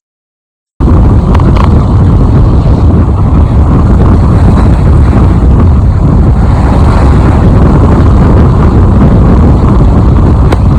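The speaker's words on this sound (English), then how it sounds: "It's upwind and 20 knots of wind." Strong wind of about 20 knots roars over the microphone aboard a sailing boat heading upwind at sea, a loud continuous rush with water noise beneath, steady throughout after a brief silent start.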